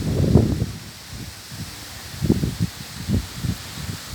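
An east wind rustles leaves outdoors, banana leaves among them, in gusty bursts of dry rustling that rise and fall against a quiet windy background.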